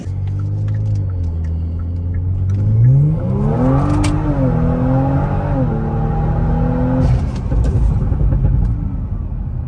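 A tuned car engine with too much boost revs up loudly in a rising, wavering drone, holding high before abruptly cutting out, close and alone without talk.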